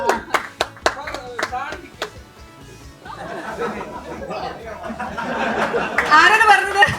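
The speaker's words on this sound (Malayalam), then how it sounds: "നല്ലൊരു ക്ലാപ്പ് വരട്ടെ." An audience at a child actor's interview event claps, starting with a few sharp, separate claps. Chatter and laughter follow, then fuller clapping rises near the end.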